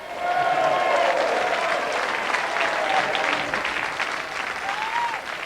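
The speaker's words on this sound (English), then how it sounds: "Please give another round of applause to Jason and Lisa Porzol." Studio audience applause at a game show's closing, dense continuous clapping with some cheering, loud and sustained throughout.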